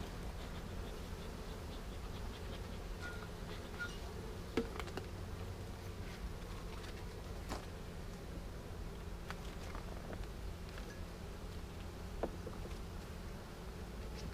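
Honey bees hum in a dense, steady drone from an open brood box, heard up close and continuous, with faint rustles and soft taps now and then.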